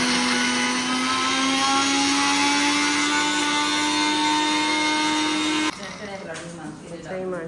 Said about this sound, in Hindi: पापा पीस रहे हैं इन सबको।